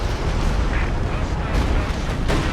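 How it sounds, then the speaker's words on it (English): A Stuka rocket artillery barrage in a video game battle, a dense rumbling roar of overlapping launches and impacts that stays loud and steady for the whole stretch, with no voice over it. "Stuka firing"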